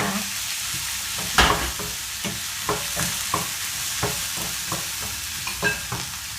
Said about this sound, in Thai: ผัดไปให้หอมเลยนะคะป้าก็จะตามด้วยข้าวโพดค่ะ